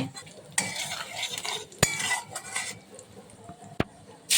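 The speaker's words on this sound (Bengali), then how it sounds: "এই যে গোটা মশলাটা কুটে রেখেছিলাম গোটা মশলাটা দিয়ে নেড়ে" Crushed whole spices and asafoetida stirred in hot oil in a pan, with scraping strokes of a utensil, a few sharp metallic clinks and a light sizzle underneath, close and fairly quiet.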